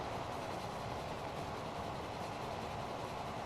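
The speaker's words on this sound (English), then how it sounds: "Beautiful trains running over beautiful bridges." Trains rolling over bridges in the Transport Fever game: a steady, broad rumble of wheels and cars running continuously at moderate distance, with no clear individual clacks and no speech.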